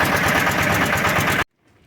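A tractor engine runs after its cylinder head gasket was replaced and its valves adjusted, a close, loud, rhythmic chugging idle that cuts off abruptly to near silence after about a second and a half.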